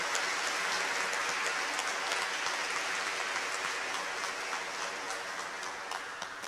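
A church congregation at a Sunday Mass claps in a dense, crackling patter that holds steady for several seconds before gradually thinning and fading toward the end.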